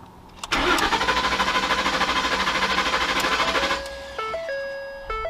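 A 2008-2014 Ford F-150 engine cranks briefly, catches with a loud roar and settles into a steady run, followed by a sequence of electronic chimes.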